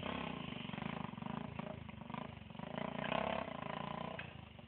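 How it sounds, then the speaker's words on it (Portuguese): Motorcycle engine of a trail dirt bike with a freshly rebuilt, zero-hour motor, running at a steady idle with a rapid pulsing throb, close and fairly loud, swelling slightly mid-way without spoken words. "Essa moto aí, o motor é zero."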